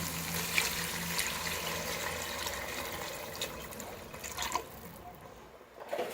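Two glasses of water are poured into a cooking pot of sautéed green moong dal for khichdi, giving a steady, soft splashing and trickling stream that fades out near the end.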